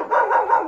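A single dog barks close and loud, one sustained bark inside a Pentecostal church, with nothing else audible.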